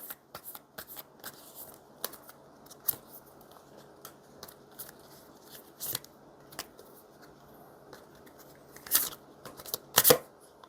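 Tarot cards are shuffled and drawn in a quiet room, with crisp riffling snaps and soft slides in irregular bursts, close up and without any talk.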